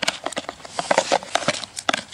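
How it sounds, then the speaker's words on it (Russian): Scissors snip fishing bait into tiny pieces for groundbait, a quick series of close, crisp irregular cuts with no talking. "С ножницами кромсаю."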